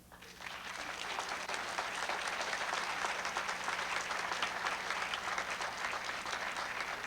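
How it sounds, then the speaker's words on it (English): A lecture audience breaks into sustained applause that rises quickly after a brief pause and holds as a dense, steady patter of many hands clapping for the whole stretch. "Where's your applause?"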